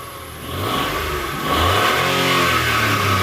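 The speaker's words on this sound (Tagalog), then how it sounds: "Paandar na yan guys. Pahitter muna natin konti." Mitsubishi Mirage G4 engine starting and revving, close and loud, its pitch climbing through two rises over a few seconds.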